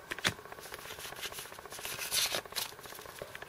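Pokemon Noble Victories booster pack being torn open, a close crinkly rustle of the foil wrapper with repeated rubbing and tearing bursts, no voices.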